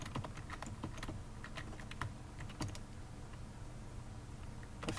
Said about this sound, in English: I bet you can hear my keys in the background.